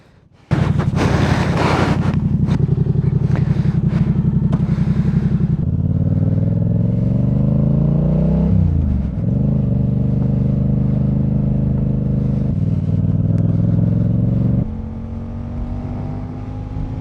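A motorcycle ridden along a road roars loudly and steadily, its engine pitch rising and dipping as it changes speed, with heavy wind buffeting mixed into the drone and no talking.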